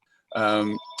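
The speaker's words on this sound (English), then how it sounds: "That's my phone in the background." During a township council meeting, a mobile phone sounds in the background with a short, bright tonal ring lasting about half a second. A fainter tone follows, and the start of another ring cuts in at the end.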